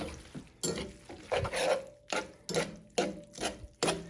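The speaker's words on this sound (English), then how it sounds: "I am now mixing up our freshly cooked linguine with our shrimp and our scampi sauce" Freshly cooked linguine with shrimp and scampi sauce being tossed and folded in a hot cast iron pan, giving a series of rhythmic, close scraping and clattering strokes about every half second.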